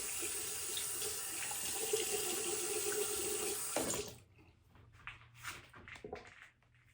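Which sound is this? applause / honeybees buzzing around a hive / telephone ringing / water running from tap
water running from tap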